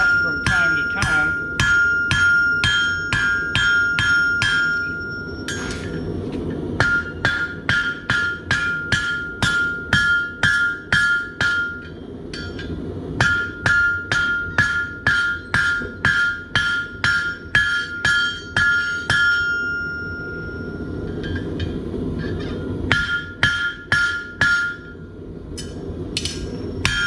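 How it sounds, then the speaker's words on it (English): Hammer blows ring on hot metal worked over an anvil horn to enlarge and round a hole for an eagle bottle opener, struck in quick rhythmic bursts with short pauses, bright metallic clangs close and loud. "continue moving this around the horn and forging it to get the hole larger and round"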